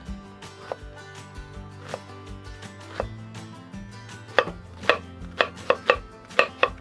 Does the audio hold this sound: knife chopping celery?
yes